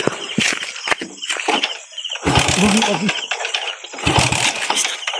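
A motorcycle engine sputters and revs in uneven bursts, catching and dying a few times, with people talking nearby.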